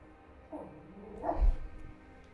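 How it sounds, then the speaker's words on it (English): Dog named Odin barking, a few brief low barks at moderate distance rising to one louder bark near the middle, over quiet room background. "There's no need to bark."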